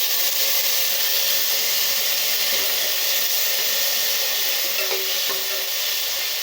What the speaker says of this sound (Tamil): தக்காளி போட்டுட்டு நல்லா வணக்கலாங்க